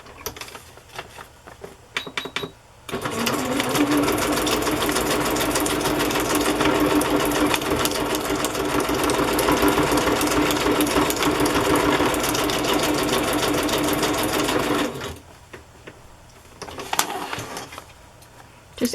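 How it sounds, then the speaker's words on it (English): Sewing machine stitching through a junk journal page with a glued-down slide, a loud steady mechanical whir running about twelve seconds close up, framed by brief handling clicks before and after. "That slide is glued down, but it won't hurt it to sew through it."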